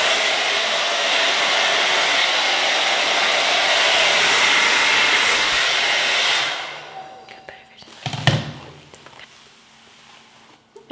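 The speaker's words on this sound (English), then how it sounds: "let's blow dry the hair" A handheld hair dryer blows steadily and loudly for about six seconds, a continuous broad rushing whoosh, then switches off and fades, followed by a few faint handling clunks and quiet rustling.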